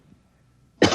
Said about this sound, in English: Look, I'll cough twice, like this.